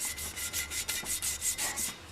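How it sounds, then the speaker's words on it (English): Rhythmic back-and-forth rasping of sandpaper rubbed by hand over a wheel, about ten even strokes, close and clear. "even this little hand sanding here"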